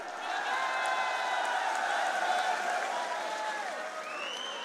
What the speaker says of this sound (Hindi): ये तालियां दिखा रही है कि अगर नारायण टैक्स से सबसे ज्यादा कोई पीड़ित है तो उज्जैन की जनता पीड़ित है।